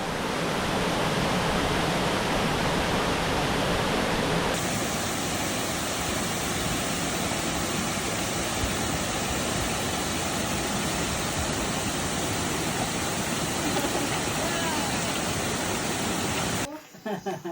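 Khaddum-Shympe waterfall in the East Jaintia Hills of Meghalaya, a loud, constant roar of falling water heard up close, steady throughout before cutting off at the very end.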